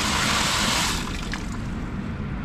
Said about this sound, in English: I got water coming through at this time.